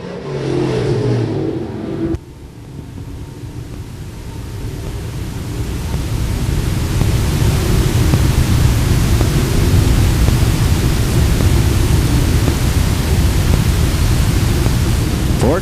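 Dirt-track street stock race cars roaring off under the green flag at Fairbury's FALS Spring Nationals, a dense, loud engine drone that swells and holds steady after a sudden cut.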